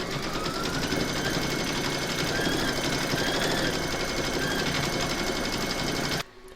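An embroidery machine stipple-quilting in red thread across an in-the-hoop apple coaster, a steady loud rapid mechanical whir of needle strokes running continuously before stopping abruptly near the end.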